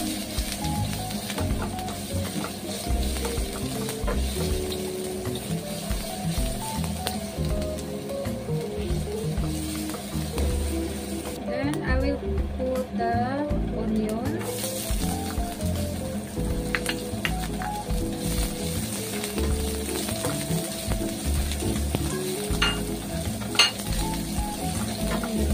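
Garlic and ginger paste with mustard seeds sizzles steadily in a pan while a Kerala drumstick masala is cooked, with occasional scraping and clinking of a spoon against the pot throughout.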